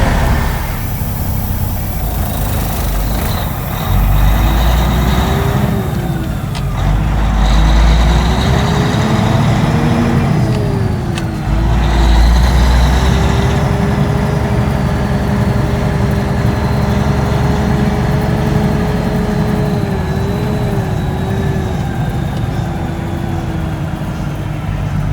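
A grain truck hauling corn to an ethanol plant rumbles steadily at close range, its heavy engine droning and shifting pitch over a long stretch, with a few brief hissing bursts that suggest air brakes.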